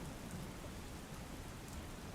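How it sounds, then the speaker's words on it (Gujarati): Steady, dense rain falls across Aravalli district, a constant broadband hiss with the low rumble of a wet, stormy day and no voices. "અરવલ્લી જિલ્લામાં સાર્વત્રિક વરસાદ વરસી રહ્યો છે"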